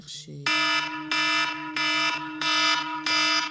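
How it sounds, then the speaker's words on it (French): An alarm clock rings in a bedroom with five loud, evenly spaced electronic beeping bursts, each holding a buzzing tone for about half a second, after a brief voice at the start. "J'avais mis mon réveil à 6h."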